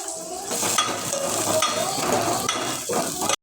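Onions frying in a pan for fish curry and fry preparation, a steady continuous sizzle with occasional stirring clinks of a utensil against the pan, close and even throughout with no talking.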